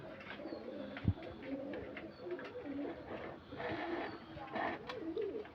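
Pigeons coo in soft, repeated low murmurs over a busy background of rustling and faint chatter, steady throughout.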